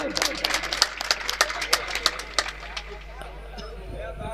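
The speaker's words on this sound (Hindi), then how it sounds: "एक बार ताली मार दीजिए भाई साहब।" An audience at a nautanki folk theatre show claps in a quick, rhythmic run of sharp claps over murmuring voices, then fades out into chatter.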